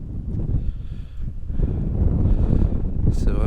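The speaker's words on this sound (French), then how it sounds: "il y a beaucoup de vent" Strong wind roars across a lagoon in the Namib desert near the Atlantic coast, a steady loud buffeting rush on the microphone throughout, with low rumbling gusts and no voices.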